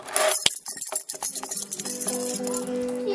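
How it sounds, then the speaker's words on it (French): House keys jingling and clinking close by in quick, irregular metallic rattles, dense at first and then thinning into lighter chinks. "Les clés de la maison."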